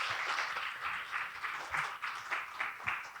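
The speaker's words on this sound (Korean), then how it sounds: "멋진 축사를 해주신 총장님께 다시 한번 큰 박수 부탁드립니다." Audience applause for a university president after a congratulatory address at a Korea University leader lecture event: a steady wash of clapping with gently pulsing swells, moderately distant in a hall.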